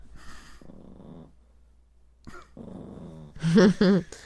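A small dog named Cricket lets out low, happy growls and grumbles in a few short bursts, close up and soft, with a couple of louder rumbles near the end; someone speaks quietly at the start.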